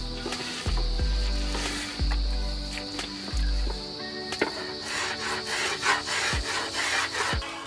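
A wooden paddle is sanded and shaped by hand, with rhythmic rasping strokes of abrasive on wood repeating about once a second, close and fairly loud, with no talking.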